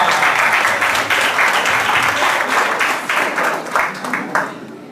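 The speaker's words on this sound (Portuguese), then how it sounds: "Uma salva de palmas para os 5, por gentileza." Lively audience applause at a motivational lecture in Brazil, honoring five people called up, a steady wash of many hands clapping that gradually tapers off over the last second or two.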